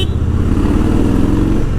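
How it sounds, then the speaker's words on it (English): A Harley-Davidson Fat Boy motorcycle cruises on the road at about 2400 RPM at 100 km/h, a loud, continuous low engine rumble mixed with wind and road noise, steady throughout. "the engine is only revving at about 2400 RPM"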